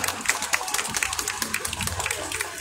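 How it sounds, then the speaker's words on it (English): An event crowd applauds a guest at a Baguio City Christmas lights opening, many hands clapping in a dense, even patter that stays moderately loud and slightly distant throughout. "A round of applause for Mr."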